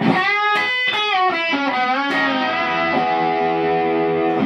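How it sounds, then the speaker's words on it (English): Electric guitar played through a distortion effect: a few bent, sliding notes lead into a sustained ringing chord, loud and close with no voice over it. "a bit of distortion on there."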